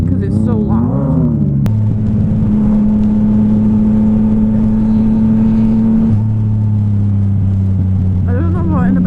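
Yamaha MT-09 SP motorcycle with an Akrapovic exhaust, a loud steady engine drone that shifts pitch as it changes gear, heard up close from the rider with wind noise and someone talking at the start and end.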